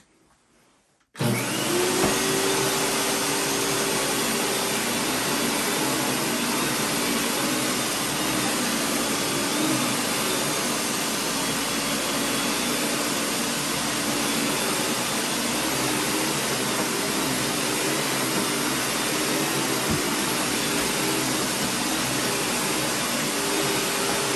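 A 1993 Hoover Futura canister vacuum cleaner starts up after a brief quiet moment and runs with a steady, loud, close roar throughout as it is pushed across the floor.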